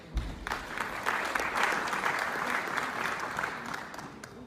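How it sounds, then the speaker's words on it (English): Audience at a town hall meeting in Pretoria State Theatre, South Africa, applauding continuously, a dense, even wash of clapping from many hands that holds steady throughout. "Please just keep clapping till he comes."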